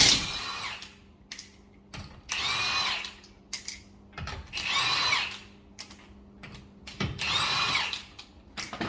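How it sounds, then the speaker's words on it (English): An 18-volt Milwaukee cordless drill with a 21 mm socket whirs in repeated bursts removing lug nuts from a Land Rover Discovery wheel, each spin about a second with ratcheting clicks and short pauses between, close and clear. "using a Milwaukee drill, 18 volt, a 21 millimeter socket. Go ahead and run these off real quick."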